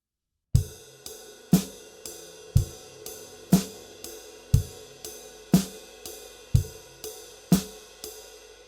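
A drum exercise plays a snare backbeat with a hi-hat foot pattern, sharp evenly spaced hits about once per second, each with a short low thump underneath, close and clean with no talking.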